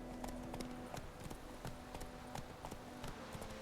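Horse hooves clip-clop on the ground in The Witcher 3, a steady run of faint, even hoofbeats under a low game ambience, with no voices.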